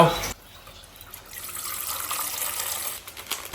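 Plain water pouring steadily into a container while making jelly in tubes, a continuous splashing gush that runs throughout at close range.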